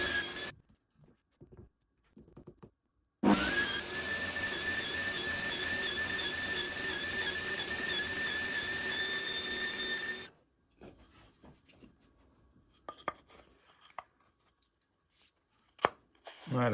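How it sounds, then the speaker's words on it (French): A table saw cutting a series of successive grooves in a wooden piece for a DIY toilet-paper holder, one long loud steady whine of about seven seconds, with quieter handling noises before and after and no talking. "des petits traits de scie successifs pour faire cette découpe"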